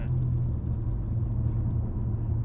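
A 2017 Honda Accord V6 with its engine droning steadily under load, a continuous low rumble and whir heard from inside the car with no talking.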